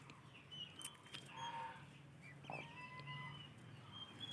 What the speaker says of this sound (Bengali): চীনা হাঁসের বাচ্চাগুলো ডাকছে দেখে এরাও এখানে ডাকছে